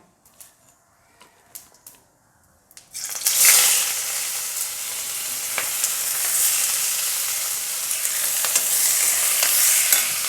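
Onions dropped into hot oil with cloves and fennel seeds for a prawn gravy: a few quiet taps, then a sudden loud burst of sizzling that settles into a steady, close fry with occasional stirring clicks.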